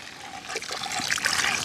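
Water trickles and splashes as it is poured over crushed bammy for soaking, a soft close stream that swells slightly toward the end, with no talking.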